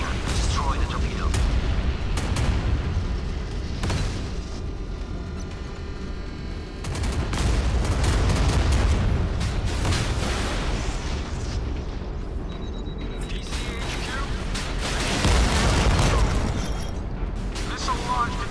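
A rocket launcher firing at an incoming torpedo during a naval battle in the video game Modern Warships, heard as rapid bursts of booming launches and explosions over rumbling combat noise, with a brief quieter gap midway.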